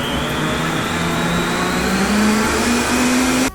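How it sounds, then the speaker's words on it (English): A blender whirs loudly and steadily, blending a chaga tea elixir with fats, its motor pitch gradually rising as the speed is turned up before cutting off abruptly at the end. "Now when you blend up fats like that, you get this nice frothy head."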